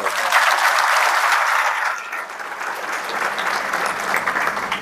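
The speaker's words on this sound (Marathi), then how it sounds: "सोलापूरच्या पत्रकारांसाठी टाळ्या होऊन" Audience at a public interview event applauds for Solapur journalists, a loud dense burst of many hands clapping that eases slightly midway and continues to the end.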